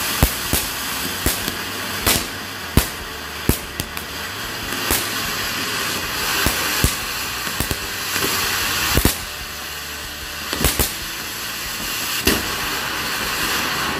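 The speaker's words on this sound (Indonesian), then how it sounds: "Yang selanjutnya ini kita nyalakan mercon barongsai jumbo." A jumbo barongsai firecracker is lit outdoors during Lebaran and goes off as a continuous dense crackle and hiss, with repeated sharp bangs popping out irregularly throughout, loud and close, with no voices.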